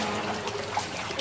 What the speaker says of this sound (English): It sounds like there's a waterfall.